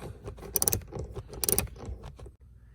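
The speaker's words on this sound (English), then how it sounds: "you can get that 10mm socket in there, and then you can start working it out" A 10mm socket on a ratchet loosening a parking brake part on a 2008-2012 Chevrolet Malibu, heard as close, bursty metallic ratcheting clicks and scraping in several quick spurts, with no talk.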